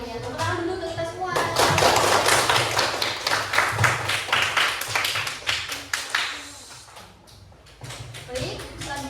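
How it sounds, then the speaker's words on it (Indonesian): Students in a sixth-grade classroom clap their hands together in brisk, uneven bursts, close and lively, with a teacher's voice heard before and after the clapping. "Tepuk tangan dulu untuk kita semua."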